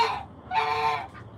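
Backyard farm poultry call out in two or three bursts, nasal honking and clucking cries from chickens and turkeys, fairly close and with no talking.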